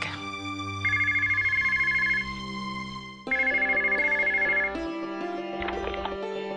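A phone ringtone chimes in two bursts of rapid trilling tones over a soft musical background, moderately loud and close.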